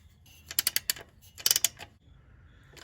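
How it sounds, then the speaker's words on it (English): A drain plug on a T5 manual transmission being tightened back down with a ratchet, two quick bursts of clicking pawl strokes, close up and crisp, then a brief metallic tap. "Take our drain plug and put back in. And tighten our plug back down."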